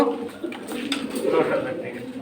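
Silver high-flying pigeons coo softly at a pigeon sale, with people talking over them throughout.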